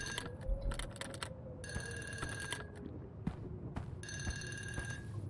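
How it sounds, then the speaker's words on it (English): A telephone rings in the horror video game Unforgiving - A Northern Hymn, with three bursts of bright, rapid electronic bell trilling separated by pauses over a low, steady ambient drone. "The phone rings."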